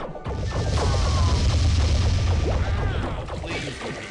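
An airstrike explosion in the video game World War Doh, a dense, loud booming blast with crashing debris that holds for several seconds before easing off.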